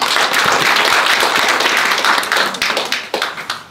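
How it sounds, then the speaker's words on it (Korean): Audience applause at a university Buddhist student club showcase in a hall, steady dense clapping that thins out toward the end. "큰 박수 부탁드립니다"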